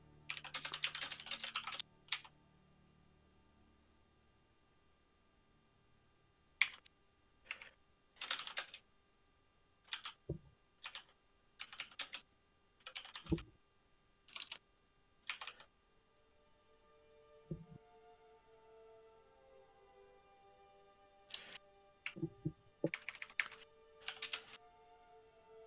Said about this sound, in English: Are you typing a response?